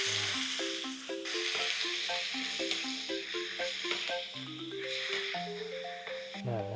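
Steady sizzling of chicken sautéing in a hot pan for tinola, with gentle background music playing throughout.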